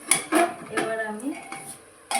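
A spoon clatters and scrapes inside a pot of chicken stew as it is mixed, a few distinct metallic knocks and scrapes up close, fairly quiet, with no talking.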